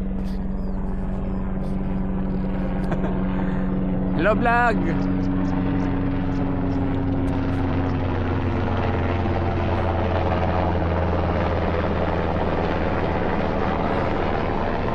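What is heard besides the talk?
military helicopter flying overhead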